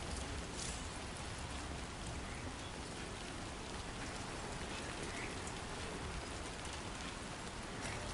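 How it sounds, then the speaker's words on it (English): Steady rain in the video game Death Stranding 2, a dense, even hiss of drops on surfaces, soft and continuous throughout with no break or voice. "I don't think it's gonna let up the rain."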